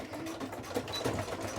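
Sewing machine stitching fabric for a glitter bow, a quick rapid mechanical chatter of a few stitches forward and back, close and moderately quiet.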